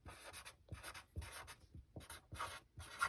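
A marker or pen writes on a classroom chart in a quiet room: about six short, close scratchy strokes in a steady rhythm, with no talk.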